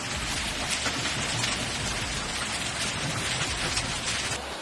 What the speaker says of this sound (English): A hailstorm thus formed in the Var, in the Allières sector.